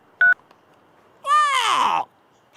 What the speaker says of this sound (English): the maker phone's ringing